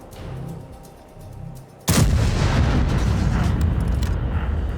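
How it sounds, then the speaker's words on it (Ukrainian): A sudden loud boom of high-explosive shell fire in a tank battle video game cuts in after a quiet stretch, followed by a sustained rumbling roar of battle noise. "Знову фугас."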